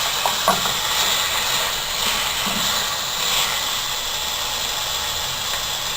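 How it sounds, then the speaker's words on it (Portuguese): Fat on a grilled pork rack sizzles and spits on the hot grill, a steady close-up hiss with crackling that runs through the whole stretch with no talking. "é observar justamente essa fritura da gordura"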